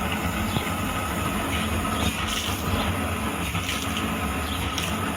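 Water is poured onto a burning LPG gas cylinder, giving a steady, fairly faint rushing and hissing wash of water that continues evenly without pause.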